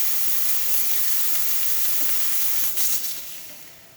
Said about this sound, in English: Then we are going to test the steam function.